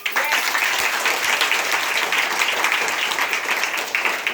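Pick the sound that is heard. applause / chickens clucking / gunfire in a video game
applause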